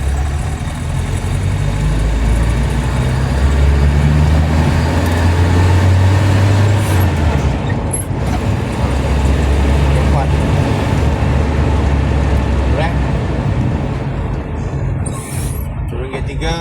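A vehicle with a carburettor problem runs along a highway in third gear, a loud steady engine drone with road noise throughout, recorded from inside.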